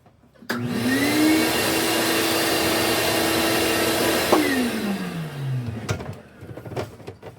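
A vacuum cleaner switches on and runs steadily, drawing dust out of an opened Xbox Series X console assembly during a repair, a loud close whine that winds down after a few seconds, followed by light handling clicks.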